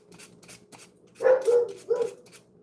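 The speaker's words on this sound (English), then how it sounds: "See, she's barking, wanting in" A dog named Aurora barks to be let inside, giving a few short muffled barks and whines from behind a door at moderate distance, with quiet background otherwise.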